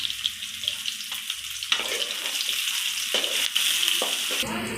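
Onions frying in oil for an Erode-style chicken gravy, a steady hiss with scraping stirs and clinks from a spoon against the pan, plus a brief splash of water near the end.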